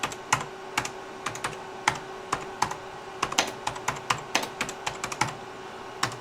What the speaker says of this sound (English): let's type some stuff out here